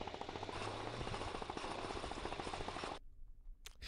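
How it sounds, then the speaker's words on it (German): Three-horsepower lawn mower engine running in the Ravensburger Interactive game Heiliger Bimbam, a loud steady rattling drone that cuts off sharply near the end, leaving brief quieter noise. "Dieser Rasenmähermotor hat 3 Pferdestärken."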